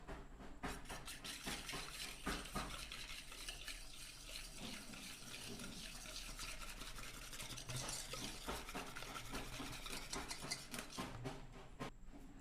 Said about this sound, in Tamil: நல்லா விஸ்க் பண்ணியாச்சு.